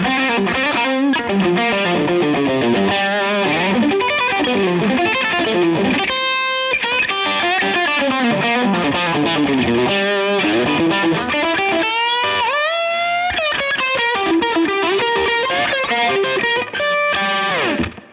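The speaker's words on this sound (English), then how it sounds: "Yeah, that's a lot of distortion, so maybe I don't want that much." Heavily distorted electric guitar played through a Line 6 Helix Stadium XL amp modeler, with dense saturated chords and sustained notes ringing steadily at loud, even volume for the whole stretch, alone with no talk.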